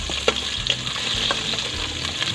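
Onion and garlic sautéing for pork head sinigang, a dense close hiss of frying oil with faint stirring scrapes, steady throughout with no voices.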